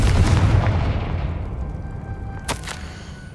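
A Confringo blasting spell explodes in the Hogwarts Legacy video game, a loud booming blast that fades into a long, rumbling decay with a faint crackle near the end.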